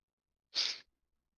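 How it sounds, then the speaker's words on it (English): A single close, loud sneeze bursts out for about a third of a second, then quiet follows. "I gotta sneeze."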